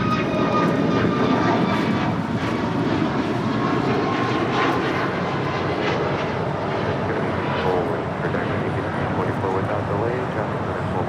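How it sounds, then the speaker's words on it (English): A United Airlines Boeing 737 MAX 9 takes off for Houston Intercontinental, its engines a loud, steady broadband roar that holds strong throughout, with faint voices underneath. "United Airlines 2040 taking off to Houston Intercontinental on a MAX 9"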